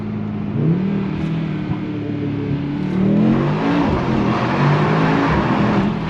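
Mercedes-AMG GT63S E with an 843 hp engine pulling hard in first gear through a short tunnel, its deep engine roar rising steadily in pitch and staying loud and close, with the sound enclosed by the tunnel walls.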